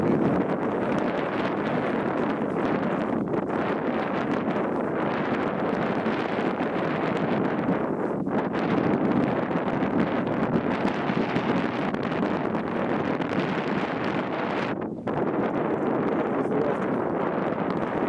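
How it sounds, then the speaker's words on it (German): Strong wind buffets the microphone in a steady, loud roar across open heathland near a castle in the Weserbergland hills, with no pause and no voices. "Der Wind."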